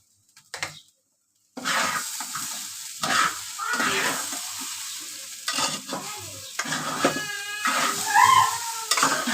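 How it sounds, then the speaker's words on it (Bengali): Boiled chickpeas and rice fry in a pan for a village-style rice biryani, a close, continuous sizzle broken by repeated scraping stirs of the spoon after a brief quiet start. "বুট দিয়ে আমি আর একটু ভালো করে ভেজে নেব।"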